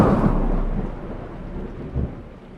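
Rain and thunder over a village during a storm: a deep, loud thunder rumble that rolls and slowly fades, a second low boom near the end, and rain hissing steadily beneath.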